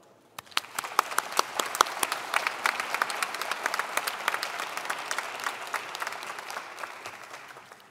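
A crowd claps steadily for several seconds, the applause swelling quickly and holding strong before gradually thinning out toward the end.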